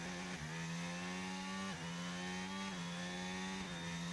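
Formula 1 car engine in a racing video game, a steady harmonic growl at constant loudness with its pitch dipping and recovering every second or so, like an idling or revving rumble with no speech.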